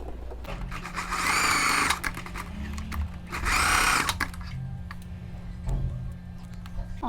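A sewing machine stitches a seam near the end of a skirt waistband. It runs in two loud, steady bursts separated by a pause, and a low hum and faint ticking continue between them.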